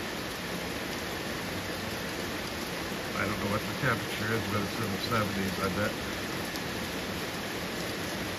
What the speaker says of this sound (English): No wind. Just nice, steady rain.